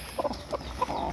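A hen clucks at a farm at night while sitting on a clutch of eggs: a few short, close clucks in an irregular rhythm with no talking.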